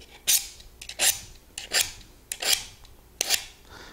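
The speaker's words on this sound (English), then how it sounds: "Now you're going to use the wide angle part of the sharpener and just run it down the blade." Scissors blades drawn repeatedly through the wide-angle slot of a Samurai Shark sharpener: five close, evenly spaced rasping strokes with short pauses between, no voices.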